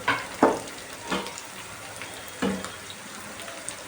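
Tomato pieces going into a frying pan for a drumstick and egg curry, giving a few short bursts of sizzle and stirring clatter over a soft background hiss; no one speaks.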